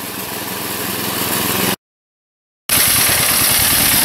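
A go-kart's small engine runs with its air filter removed, a loud, steady drone that cuts out abruptly for about a second of silence before resuming just as loud.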